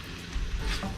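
Chicken dropped into a hot pan for spicy mango chicken, a brief close sizzle and crackle with a few low thumps as the pieces land.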